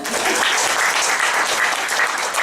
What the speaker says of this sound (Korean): 이럴 때도 박수 줍니다.